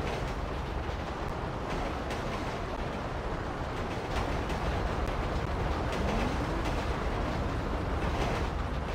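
Train rolling on rails in the video game GTA V, a dense, steady rumble with faint rhythmic clatter, loud and continuous without a break.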